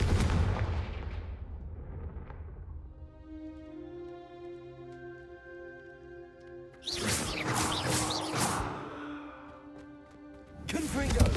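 A Confringo fire spell goes off in a Hogwarts wizarding video game, a booming fiery blast burst followed by sustained ringing magical tones, then a second loud crackling impact near the end, with game voices around it.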